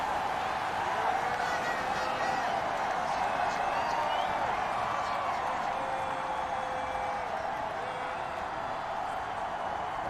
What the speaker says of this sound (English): Oregon crowd is pumped. They're trying to rally this defense, rile them up, get them going.